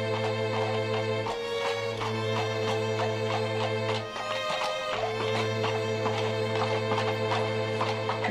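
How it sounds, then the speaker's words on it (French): A horse pulling a heavy load in a mine clip-clops in a steady, even rhythm of hoof strikes, heard beneath a constant droning hum that runs through the whole passage. "Puis s'avance un cheval tirant sa lourde charge"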